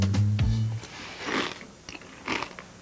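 Crisp crunching bites of dry bran cereal, several chews close to the microphone, with a brief low tone at the start.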